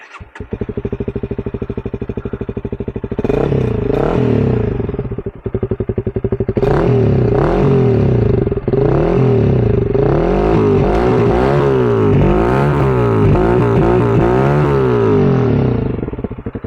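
A Honda CRF300L Rally single-cylinder motorcycle fitted with a Graves exhaust starts up close by, then idles with a thumping beat and revs repeatedly in rising and falling bursts, loud and alone.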